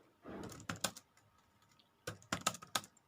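Soft keyboard typing while entering input for a C++ program, two short clusters of crisp key clicks separated by a quiet gap, faint and close with no voice.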